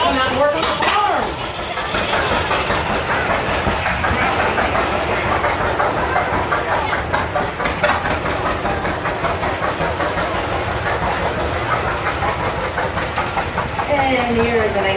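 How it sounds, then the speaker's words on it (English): A 1946 John Deere LA tractor engine runs steadily at a farm event, a constant rhythmic chugging that carries loud throughout, with people talking over it at the start and the end. "And here is a 1946 John Deere LA owned by Dana and Bonnie Canfield."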